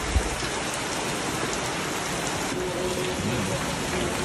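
Heavy rain from a typhoon pours down steadily as a dense, continuous hiss of drops drumming on surfaces, loud and unbroken throughout with no talk.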